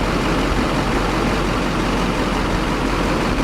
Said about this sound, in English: So we're going to go ahead and crank the engine.